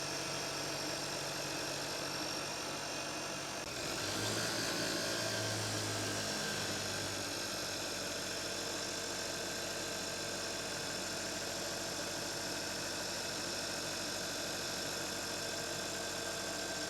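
A vehicle engine idles with a steady, even hum just above idle speed, briefly shifting pitch early on before settling into a constant, moderately quiet drone with no speech.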